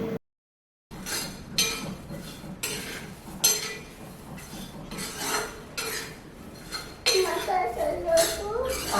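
Groundnuts being stirred and roasted in a pan, with repeated scraping and rattling clinks of a utensil against the metal in irregular bursts, close and moderately loud, joined by a voice near the end.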